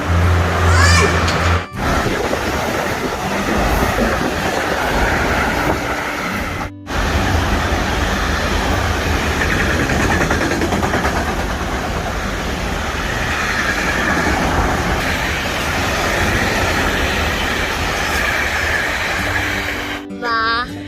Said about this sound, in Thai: ตอนนี้เราก็อยู่ที่สถานีรถไฟอยู่ที่หมู่บ้านของเราเองนะคะ